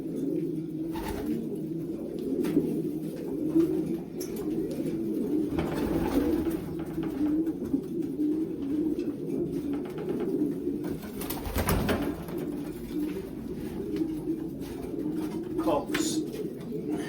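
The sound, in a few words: racing pigeons cooing while being basketed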